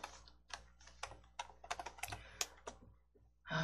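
Quick, irregular keystrokes on a computer keyboard as a search term is typed during a coding lesson, close and clear with short pauses between bursts of taps.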